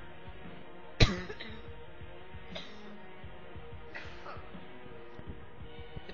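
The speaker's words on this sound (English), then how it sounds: "Sorry, I had a cough." A single sharp cough rings out near the start, followed by fainter throat sounds over a quiet background hum.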